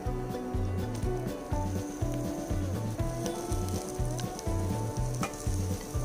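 Mutton and onion masala fries on low flame in a pan, with a steady soft sizzle, irregular clattering scrapes as it is stirred, and a rhythmic low thumping pattern underneath.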